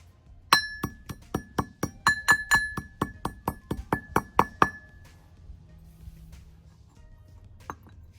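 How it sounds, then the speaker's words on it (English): Rock pigment being pounded in a cast iron mortar with a pestle: about sixteen quick, ringing metallic strikes in a steady rhythm, then a pause and one last isolated knock. "I like using a metal cast iron mortar and pestle or a brass one for the rocks because they seem to last longer"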